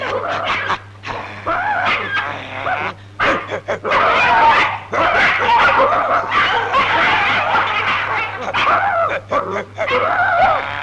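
Dog yelping and whimpering in a Tamil comedy scene, a busy stretch of repeated yips and whines mixed with laughter-like noise and background sound, fairly loud throughout.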